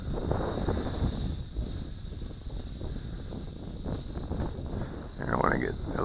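Wind gusting outdoors against a microphone, a rough low rumble and buffeting that persists under someone speaking, with a higher whine in the background.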